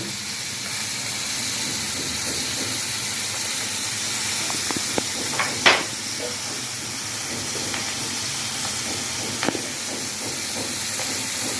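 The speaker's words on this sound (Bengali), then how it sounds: "এইটাকে আমি লাল করে ভেজে নেব ততক্ষণ আমরা ভাজতে থাকি" Chicken frying in oil in a pan while being browned for a Mexican-style chicken dish, a steady hiss of bubbling oil throughout with a few sharp crackles and pops, close and fairly loud, no voices.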